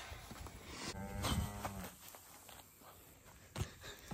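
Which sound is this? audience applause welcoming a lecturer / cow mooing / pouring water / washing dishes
cow mooing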